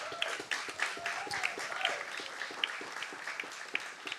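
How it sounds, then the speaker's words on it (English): Bookstore audience applauding an author at a talk on being Black in America's schools, many people clapping in a lively, uneven patter with sharp individual claps, moderately close, fading slightly toward the end. "Give him a round of applause"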